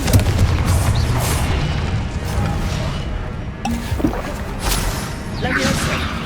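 Confringo fire-blast spell in Hogwarts Legacy, a dense booming burst layered with repeated explosive impacts and crackling debris, loud and continuous through combat with game voices shouting spell names.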